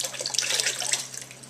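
Water streams steadily into a large bucket while homemade laundry detergent is mixed, a close, continuous splashing pour with no talk.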